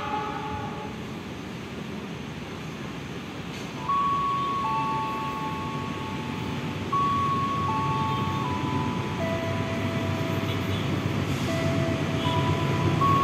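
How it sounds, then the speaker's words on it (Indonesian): The Brawijaya passenger train passes straight through a station without stopping, a steady rumble growing louder as it nears, with tonal horn or whistle notes sounding over the rolling noise. "Jalur 3 dari arah barat, kereta api Brawijaya melintas langsung"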